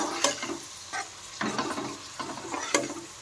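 Curry leaves and coriander stirred in a hot pan for chicken curry, with a close, steady sizzle broken by repeated scraping strokes of a spoon at an even rhythm and no talking.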